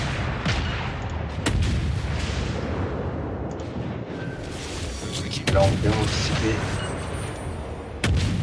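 Warship naval guns fire in World of Warships, with sharp booming blasts and heavy rumbling battle noise throughout, loud and close, while someone speaks briefly.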